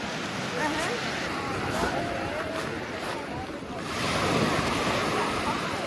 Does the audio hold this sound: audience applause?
no